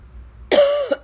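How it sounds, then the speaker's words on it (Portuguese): One short, harsh cough that trails off briefly into a throaty catch, loud and close, with near silence before it. "Ainda estou tossindo, né?"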